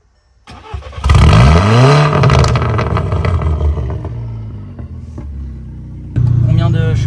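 A tuned Volkswagen Golf 6 GTI Edition 35 engine, Stage 2 at 362 hp, cranks and catches, then revs up loudly and settles into a rumbling idle before revving again near the end.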